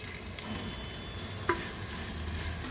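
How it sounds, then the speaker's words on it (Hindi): Finely chopped medium onions frying in a wok for handi chicken biryani, giving a faint, steady sizzle with light stirring and one brief clink, heard alone without talk. "तो प्याज है दोस्तों अच्छे से भून लेंगे जहाँ में हम"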